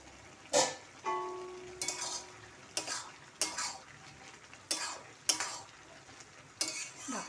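Chana dal and soybean with spices being stirred in a pan: a handful of separate scraping strokes of a spoon against the pan, evenly spaced, close and clear, with a faint sizzle between them and a short metallic ring near the start.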